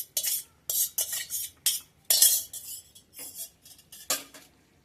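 A utensil stirs black-eyed peas through a cooking pot of softened, boiled ingredients, producing a series of close, irregular scraping and clinking strokes with short pauses between them, and no one speaking.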